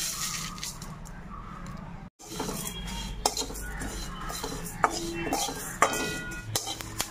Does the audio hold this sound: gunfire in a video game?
no